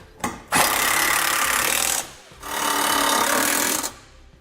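A power tool tightens trailer hitch bolts on a 2012 Chrysler Town and Country, two sustained loud whirring bursts of about a second and a half each, separated by a short pause, with no talking.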